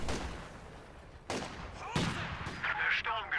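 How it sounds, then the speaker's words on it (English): Sector artillery barrage in Company of Heroes 2, sharp blasts striking at intervals with rumbling impacts and crackling debris over steady battlefield noise. "I drop the sector artillery."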